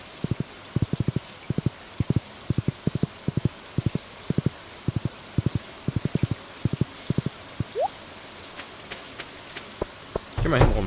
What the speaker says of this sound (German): Oh, ich dachte gerade, es hört auf zu regnen.